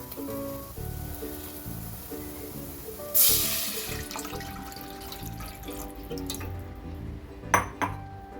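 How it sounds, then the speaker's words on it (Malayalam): Rice water is poured into a pan of sautéed onions while a soup is being made. A brief splashing pour is followed by faint trickling and a couple of clinks over soft background music. "ഉള്ളിയൊക്കെ വഴന്ന് വന്നിട്ടുണ്ട് ഇതിലേക്ക് നമുക്ക് നമ്മൾ എടുത്തു വെച്ചിട്ടുള്ള കഞ്ഞിവെള്ളം ഒഴിച്ചു കൊടുക്കാം"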